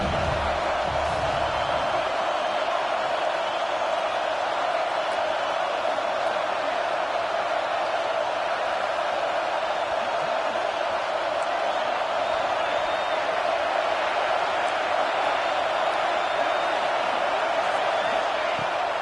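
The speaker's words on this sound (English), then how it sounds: "The Buckeye crowd alive on 3rd down." A large Ohio State Buckeyes college football crowd roars on third down, a loud, sustained stadium din that stays constant throughout, with voices mixed in.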